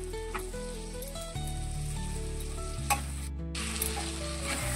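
Chopped tomatoes hit a hot pan of oil and potatoes for a Bengali chicken curry, giving a steady, close sizzle with a faint stir, under a sustained tonal backing that shifts pitch in steps.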